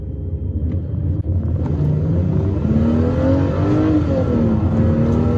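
A 1995 Mercedes SL320 engine, just started, runs steadily at close range with a deep rumble, its pitch rising gently as it picks up a little, with nobody speaking.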